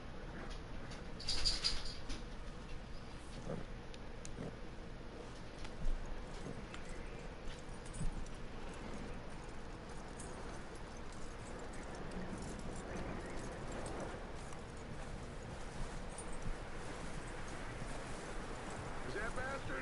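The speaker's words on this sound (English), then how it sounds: "That looks like a decent horse." Horse hooves clip-clop in the video game Red Dead Redemption 2. Faint, soft hoof steps run under game ambience and a bird call, with voices talking at times.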